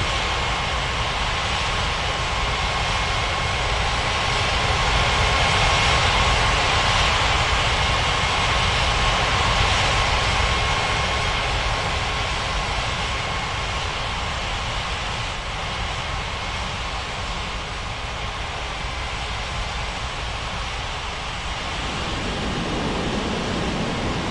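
An airliner on landing approach to runway 27 at Bali's Ngurah Rai International Airport in an air traffic control game, a loud, steady, broadband engine roar that holds unbroken throughout and shifts slightly in tone near the end.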